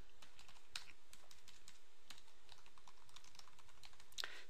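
Typing on a computer keyboard, a quiet close run of irregular key clicks and taps with a few sharper strokes, alone with no talk.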